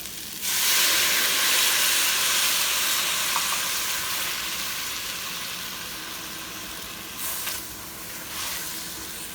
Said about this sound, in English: you deglaze this one now with red wine. We substitute with white wine. I'm gonna do that now.